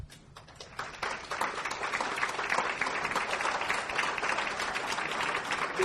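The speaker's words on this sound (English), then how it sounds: "to please stand up and to get a nice round of applause" An audience gives the foundation's advisory committee a round of applause at a report presentation. The clapping starts sparse, then quickly swells into dense, sustained applause that holds steady to the end.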